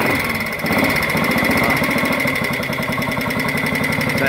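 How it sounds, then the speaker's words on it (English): A 1966 Matchless G80CS 500cc single-cylinder motorcycle engine fires up nearby and settles into a loud, rapid, even thumping idle that runs to the end of the clip. "so let's start it up"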